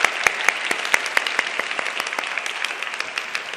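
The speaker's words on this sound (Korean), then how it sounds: "지금도 수고하고 애쓰고 있는 우리 재수하는 친구들 위해서 다시 한번 격려와 사랑의 박수를 좀 쳐줬으면" Church congregation at a Korean Sunday university-group worship service clapping in encouragement, a steady dense patter of many hands with a few sharper claps standing out, moderately loud and without voices.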